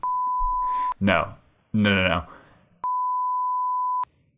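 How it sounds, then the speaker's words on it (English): A flat, sustained beep tone opens, then brief speech, then a second longer beep of the same pitch. "I'm just beeping names."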